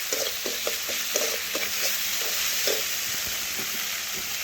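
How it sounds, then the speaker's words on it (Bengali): Spices with turmeric, chili powder and salt fry in a pan with a soft constant sizzle, while a spatula scrapes and taps in an irregular stirring rhythm up close, no talking. "একটু মশলা আমি ভেজে নিচ্ছি"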